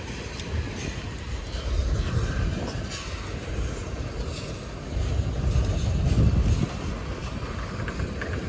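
A freight train of empty tanker cars rolls past, a continuous low rumble and rattle that swells and fades slightly as the cars go by, with no talking.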